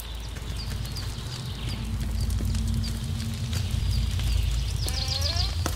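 Sheep bleat in the video game Force of Nature over a loud, dense rumbling game ambience, with several short wavering bleats rising above the background toward the end.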